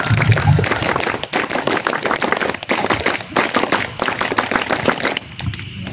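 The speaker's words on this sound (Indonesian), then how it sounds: "2 kali tepuk pramuka" Scout-style rhythmic clapping by a group at a school evening Pramuka gathering, a dense run of sharp claps lasting several seconds with short bursts and brief pauses, loud and close.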